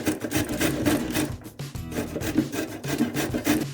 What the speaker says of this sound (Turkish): Havuçlarımı çekiyorum güzelce kekimizin içine